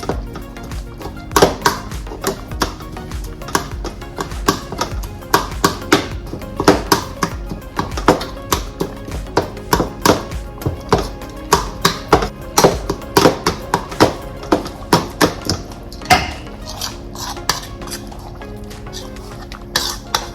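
Cooked red beans being mashed in a pot, a steady stream of close, irregular taps, thumps and clinks of the masher against the pot for about twenty seconds, with no talking.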